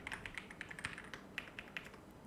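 Fingers type on a computer keyboard while entering a date into a Google Sheets calendar, a quiet run of light, irregular key clicks spread over a couple of seconds.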